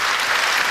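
A studio audience on an Indonesian talk show bursts into loud, dense applause, many hands clapping close and continuous throughout the short stretch.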